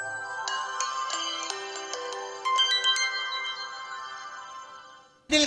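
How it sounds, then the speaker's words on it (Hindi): Ringtone of a G'Five G5 4G phone, a bright melodic electronic tune of repeated tones playing alone and clearly, ending with a brief louder burst. "और फिर जैसे ही आप ये हटाते हैं तो ये G5 और इसकी रिंगटोन जो मुझे बहुत पसंद है।"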